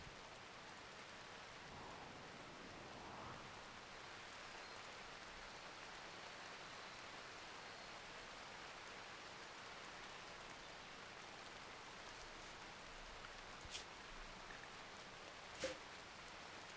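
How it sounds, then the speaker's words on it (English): Rain falling in the video game RimWorld: a faint, steady, even hiss of rainfall that continues throughout, with a couple of tiny clicks near the end and no speech. "The rain will put it out."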